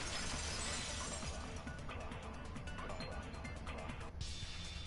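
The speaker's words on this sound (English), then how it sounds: "If it wasn't the window, then what broke to make that sound? A vase." Vase shattering in the video game Danganronpa 2, a dense crash of breaking ceramic and glass filling the whole span, loud and continuous with scattered tinkling fragments and a brief dip near the end.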